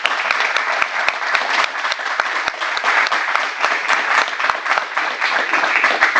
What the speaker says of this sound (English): If we could all give him a round of applause, please.